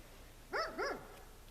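A dog gives two quick, fairly quiet barks in succession against a low background hum.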